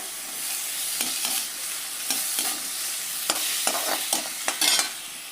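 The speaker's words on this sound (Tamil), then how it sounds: "இந்த பட்டாணி அதே மாதிரியே இந்த உருளைக்கிழங்கு போட்டு நல்லா கலரிட்டு" Potatoes and peas fry in a pan, giving a continuous close sizzle while a utensil scrapes and stirs with irregular knocks throughout, and no voices.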